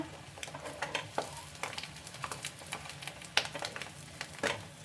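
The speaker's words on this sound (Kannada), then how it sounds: "ಸೊ ಇದನ್ನು ಚೆನ್ನಾಗಿ ಫ್ರೈ ಮಾಡ್ಕೊಳ್ಳೋಣ" Egg pepper fry sizzles in a pan, a close, busy crackle with irregular scraping and stirring taps. No one speaks.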